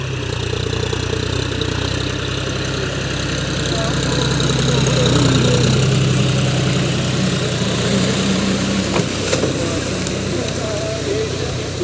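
A loud John Deere 5045 D tractor engine rumbles steadily nearby with a constant low droning throb, and faint voices can be heard under it.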